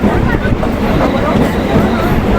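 A train held at a signal at Madhyampur station gives off a loud, steady rumble with a broad, dull roar, while platform chatter and a nearby voice talking sit on top of it.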